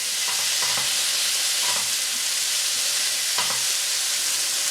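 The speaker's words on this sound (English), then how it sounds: "Then we're going to go in with our ginger. The same, just give that a quick stir around." Ginger being stirred in a hot pan while making sweet and sour sauce, a steady sizzle of frying with a few soft scraping strokes of the spoon, close and continuous, no voices.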